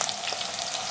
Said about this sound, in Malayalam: എണ്ണ ചൂടായപ്പം നമ്മൾ കിഴങ്ങിട്ട് കൊടുത്തേ.